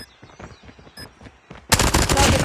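Video game gunfire in Call of Duty Mobile: after some quiet clicks and taps, a loud burst of rapid automatic P90 shots erupts and continues densely to the end.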